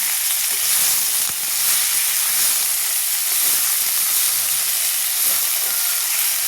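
Moringa leaves sauté in a hot pan, making a loud, continuous hiss and steamy sizzle that holds steady throughout, with faint stirring scrapes and no talking.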